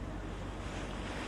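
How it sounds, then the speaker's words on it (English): Swelling ocean waves rolling a ship make a dense, steady wash of surf and wind rush, loud and unbroken with no voices. "Swelling waves cause the ship to roll beneath my feet"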